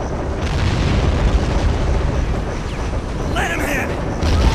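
Gunfire and explosions from the war video game Men of War: Assault Squad 2, with a dense, continuous rumble of booms and blasts throughout and a voice briefly heard over the battle.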